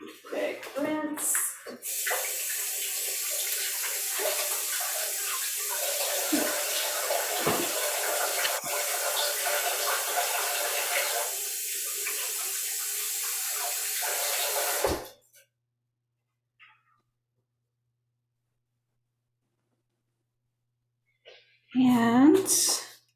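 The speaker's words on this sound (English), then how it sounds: "Big rinse." Steady running tap water splashing while vegetables are rinsed under a kitchen faucet for about fifteen seconds, then a brief quiet gap before a voice speaks.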